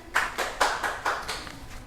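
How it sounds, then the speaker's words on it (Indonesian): A few sharp hand claps ring out in an uneven series of about five strikes, close and fairly loud, with no voices, in a classroom group activity. "Beri tepuk tangannya"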